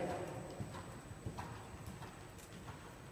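A horse canters in a western dressage arena, faint rhythmic hoofbeats thudding at a distance over a quiet background.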